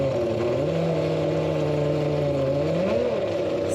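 The only Lamborghini F1 engine, fired up at a car week event, hums loudly and steadily at close range, its pitch dipping and then rising again in a couple of smooth revs.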